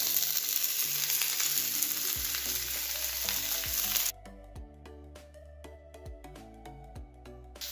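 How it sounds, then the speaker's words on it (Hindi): Dal and boiled sweet corn fry on low flame in a pan, a loud steady sizzle that suddenly drops to a quieter crackle about halfway through, with faint stirring scrapes. "दाल को हल्का सा गोल्डन कलर होने तक फ्राई करेंगे।"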